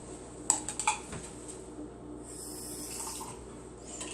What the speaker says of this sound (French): Là, après, on met de l'eau là-dedans.